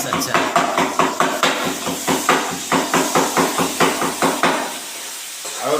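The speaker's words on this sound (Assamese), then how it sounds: "মই এইটো আদা নহৰু এইটো গিলাচত ভৰাই লৈছোঁ, বেলনা মাৰিয়ে খুন্দি আছোঁ।" Ginger and garlic pounded inside a glass with a rolling pin, a steady series of sharp, evenly spaced knocks with a hard clinking edge, close and loud, carrying on for several seconds before stopping.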